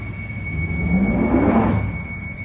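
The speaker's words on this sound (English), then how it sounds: "This is a Northern Line train terminating at High Barnet." A London Underground Northern Line train bound for High Barnet rumbles and whirs from inside the carriage, with a steady high electrical whine and a swelling low drone from the running gear.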